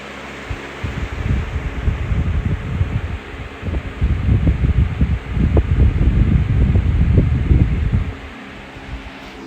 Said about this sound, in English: And you can hear that beautiful whine just settling down.